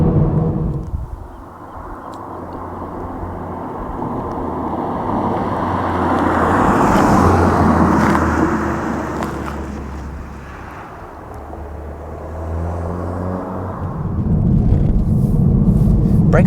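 Four-cylinder 2.0 engine exhaust of a 2022 Toyota Supra driving on a winding road, a steady low drone that swells and eases with throttle, mixed with wind and road noise.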